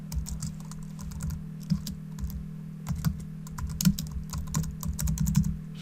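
Clicky keystrokes on a computer keyboard as a title is typed into a logo design, irregular bursts of taps close and fairly quiet over a low steady hum, with no voices.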